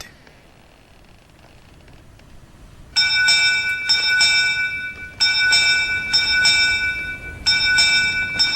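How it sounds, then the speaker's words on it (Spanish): A hand bell rung as an alarm aboard a ship at night, clanging in three bursts of rapid bright strokes after a quiet start, loud and close. "el vigilante comenzó a tocar una campana que llevaba consigo y que servía para alarmar a toda la tripulación"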